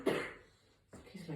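A single short, quiet cough, followed by a soft breathy throat sound a moment later.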